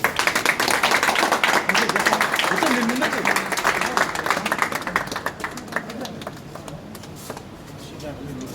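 A crowd claps at a film and web-series event held with a photographers' association team present, loud clapping at first that thins and fades over several seconds while people talk over it.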